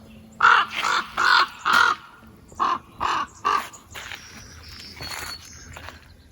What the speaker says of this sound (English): The raven's been flying around and squawking the whole time I'm here.